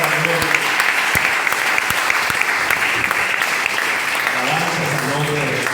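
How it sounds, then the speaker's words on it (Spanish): A church congregation applauding, a dense, steady wash of clapping from many hands filling the room, loud and continuous, with a voice faintly audible beneath it near the end. "Denle un aplauso a Jesús"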